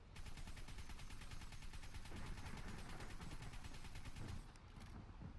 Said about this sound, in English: let's give him a full clip